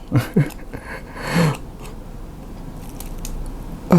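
Salted bread spread with Vegemite being bitten and chewed: a couple of crisp close bites at the start, a crunchy chomp near the middle and another at the end, with soft mouth noise between and no talking.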